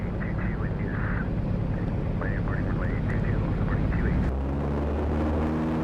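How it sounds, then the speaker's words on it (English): A small 50-year-old airplane taxis toward a concrete strip runway in a grassy field, its engine droning steadily and loudly throughout, with a voice talking over the noise before the engine tone shifts lower near the end. "Now we're taxiing towards the runway, which is just a strip of concrete on a field of green grass surrounded by trees."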